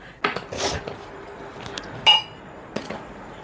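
A few dishes clink and clatter as they are set down, in short separate knocks with quiet pauses between them.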